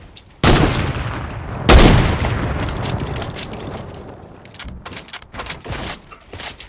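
Sniper rifle fire in a video game build battle: a sharp shot near the start, a second heavy blast shortly after with a long decaying tail, then a scatter of quieter clicks and snaps.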